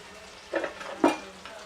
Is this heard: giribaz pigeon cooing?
no